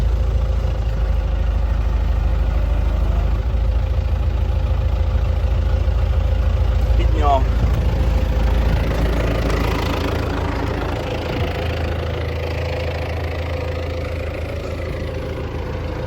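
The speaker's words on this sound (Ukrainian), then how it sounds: "Стоїть на холостому, газу не додаю." A tractor engine idles loudly and steadily without added throttle during a hydraulic pump test, with a constant low rumble and a brief mechanical whine or squeak partway through.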